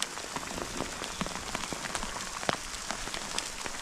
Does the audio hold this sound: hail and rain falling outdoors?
yes